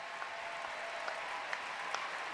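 Steady crowd applause and cheering fill an arena at the 2010 World Equestrian Games show jumping final, a dense continuous wash with a few brighter claps standing out.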